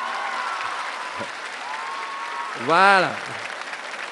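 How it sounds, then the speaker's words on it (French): Audience applause at an awards ceremony for the Concours général prize-giving, a steady wash of clapping throughout, with someone speaking over it and a brief loud vocal exclamation near the end. "Je suis d'accord avec vous de l'applaudir."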